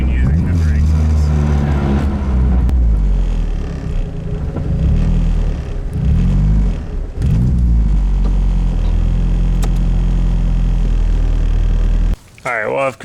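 A turbocharged K24-swapped Nissan Cefiro with dragging rear brakes drives and accelerates, its engine a loud, deep rumble that swells and eases with revs, while someone talks over it.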